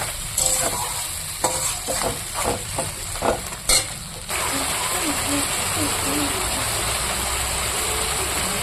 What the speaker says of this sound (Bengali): এবার আমি এটাই মশলাটা কষিয়ে নেব